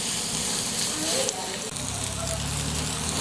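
Crushed onions sautéing in a pan for pork asado make a dense, continuous sizzle, loud and close throughout, with a voice faintly under it.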